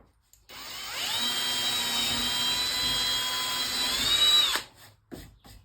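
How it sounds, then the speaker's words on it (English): A power drill whirs at a steady high pitch for about four seconds, close up, drilling a hole in a board, then winds down and stops with a brief rattle. "I'm going to drill a hole right here."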